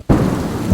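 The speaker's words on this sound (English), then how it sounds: "lightning struck the church." A loud, close thunderclap from a lightning strike during rain bursts in abruptly and rumbles on, with a second low boom swelling at the very end.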